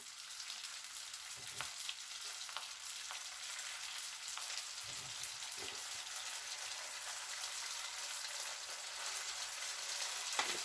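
Chicken tandoori pastillas frying in a pan, a faint continuous crackling sizzle with occasional small pops and no talking.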